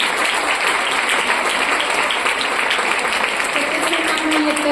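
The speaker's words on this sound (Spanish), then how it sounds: "Un aplauso, por favor." Loud, steady audience applause at a talk event, a thick unbroken wash of clapping that holds at full strength throughout, with a few voices faintly under it.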